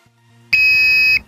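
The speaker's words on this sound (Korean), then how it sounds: "이 버튼을 누르면 화재 발생이라는 멘트가 나오면서 여기에 빨간색 불이 들어옵니다." Standalone fixed-temperature heat fire alarm sounding after its test button is pressed: a sudden loud, steady electronic tone that holds for about two-thirds of a second and then cuts off, following a faint low hum.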